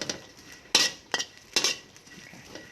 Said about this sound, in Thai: กะปิลงไปคั่วด้วยเขาก็จะหอมค่ะ